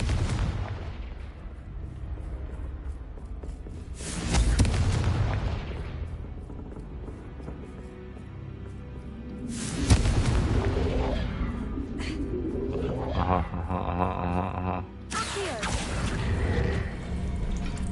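Confringo fire spell blasts in the Hogwarts Legacy video game: three loud booming explosions spaced several seconds apart, each trailing off into rumbling debris and mechanical clatter, with no talking.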